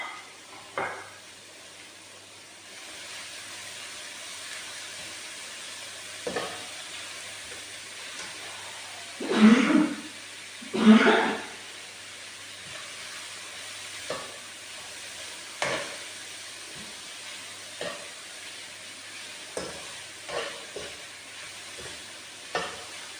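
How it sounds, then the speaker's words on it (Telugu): Ginger, garlic, carrot and chilies sizzle in hot oil, a low steady frying hiss broken by scraping stirs and clinks of a utensil against the pan, two louder stirring bursts near the middle. "అల్లం తెల్లగడ్డ వేగింది, పచ్చివాసన పోతే చాలు"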